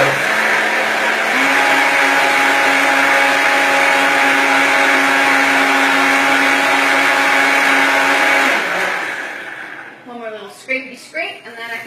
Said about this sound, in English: I'm going to put this back into the blender